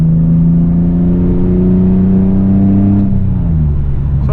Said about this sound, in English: Do a little third gear, 50 miles an hour